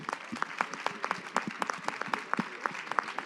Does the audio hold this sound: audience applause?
yes